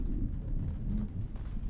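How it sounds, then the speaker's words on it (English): Steady rain with a low rumble of thunder, a broad continuous wash heavy in the low end that stays fairly loud and even throughout, with no voices. "Then it began to rain."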